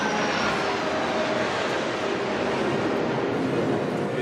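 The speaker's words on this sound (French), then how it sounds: "C'est un ravitailleur, une sorte de tanker volant suivi de 2 rafales." A tanker aircraft followed by two Rafale jets passes overhead during the 14 July military flypast, a loud, steady broadband engine roar that holds constant throughout without any voices.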